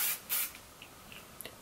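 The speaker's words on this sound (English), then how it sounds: "it is the Paul Mitchell Hot Off the Press Spray" Two short bursts of Paul Mitchell Hot Off the Press hairspray hiss, each lasting a fraction of a second, close by, followed by faint light clicks and rustles.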